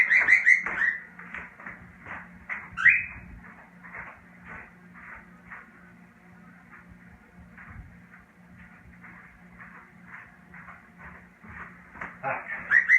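Cockatiels chirp in short repeated calls, moderately close, with scattered louder squawks at the start and end over a faint background hum.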